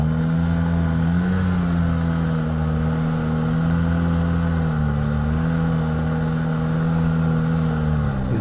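A snowmobile accelerates up a mountain hill climb at Coburn Mountain in 2018. Its engine gives a loud, continuous droning roar close by, with the pitch wavering slightly as the throttle is held open.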